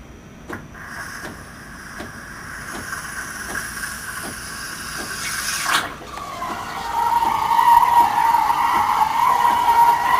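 A Saeco Syntia espresso machine ticks with an evenly spaced pump clicking, then shifts partway through into a louder steady gurgling hiss as hot water flows out, close and without talk.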